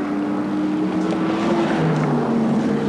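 A Nissan Group A touring car racing at Amaroo Park in the 1986 Australian Touring Car Championship, its engine droning steadily at a distance with a sustained tone that shifts slightly in pitch, blended with broad wind and crowd-like noise.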